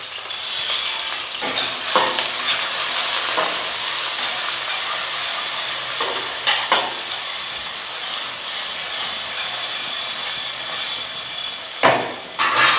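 Onions and green chillies fry in hot oil with a steady, hissing sizzle, while occasional spatula scrapes and knocks cut through, including a louder clatter near the end.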